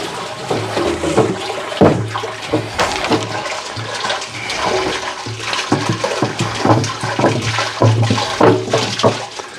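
Water gushes steadily into a Harbor Freight cement mixer while pouring bagged concrete, a loud close splashing and churning with a few sharper knocks.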